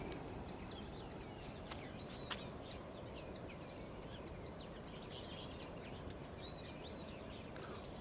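Birds chirp near the ocean: faint, scattered tweets and calls rise over a constant wash of surf, with no one talking.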